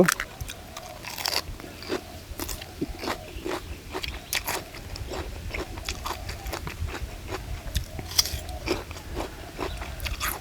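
Crunchy grilled squid tentacles being bitten and chewed up close: repeated sharp crisp crunches in an uneven rhythm, with moist chewing between bites and no talking.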